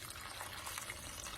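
Water poured into a cooking pot for a moong dal and tomato-potato curry: a steady, soft splashing pour runs throughout, fairly quiet and close, with no talking.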